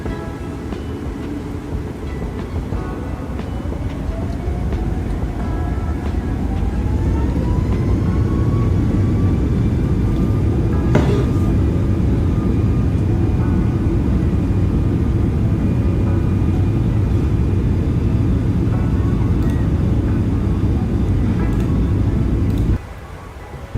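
A Boeing 737-800 takeoff in Microsoft Flight Simulator with loud, steady jet engine roar that swells as thrust builds and a rising whine during the takeoff roll, continuous throughout, then cut off abruptly near the end.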